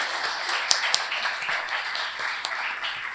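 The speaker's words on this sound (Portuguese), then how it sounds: "Por favor, uma salva de palmas" An audience at a panel on the Reviver Centro program bursts into applause, a dense crackle of many hands with a few sharper individual claps standing out.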